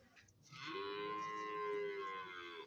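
A buffalo lets out a single drawn-out moo lasting a couple of seconds at a cattle market with calves tethered nearby, fairly clear and alone, without talk.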